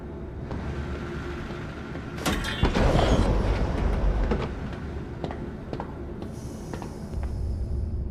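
A train sounds in the horror video game Zoochosis, with a mechanical clunk and a sliding rumble swelling in the middle of the clip, then a steady hum and a faint high tone near the end, with no speech.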